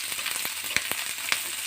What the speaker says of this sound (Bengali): খুন্তি দিয়ে পেঁয়াজগুলো একটু হালকা হাতে একটু বাদামি করে ভেজে নেব।